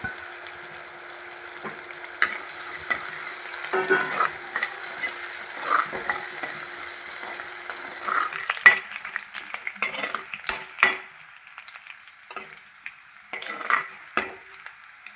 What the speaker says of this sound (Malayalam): ഉള്ളിയും പച്ചമുളകൊക്കെ നല്ലോണം മൂത്ത് വന്നിട്ടുണ്ട്.